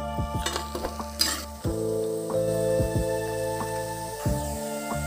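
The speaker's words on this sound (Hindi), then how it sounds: "ऐसे ही हम सारी मठरियों को तल लेंगे।" Rice-and-dal mathri fry steadily in hot oil, a continuous close sizzle broken by scraping stirs and clinks of a spoon against the pan.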